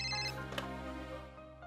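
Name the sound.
telephone ringing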